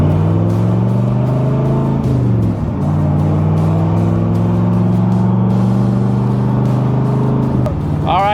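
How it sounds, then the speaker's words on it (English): A 1965 Chevrolet Corvette Roadster's side exit exhaust drones steadily while driving, a deep rumbling tone with a brief dip in revs partway through, loud and close. "can hear the side exit exhaust"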